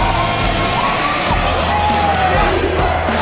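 A packed high school gym crowd cheers loudly and continuously during a semifinal game, a steady roar of voices with shouts and whoops rising above it, close and enveloping.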